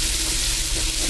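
Chopped onion sizzling in butter in a pot for New England clam chowder, a dense, loud, continuous crackling fry with no talk over it.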